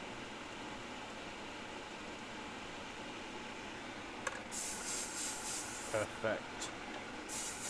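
An airbrush spraying paint onto a Porsche gives short bursts of airy hiss in the second half, separated by brief pauses, with a soft background hum before it and a single short spoken word.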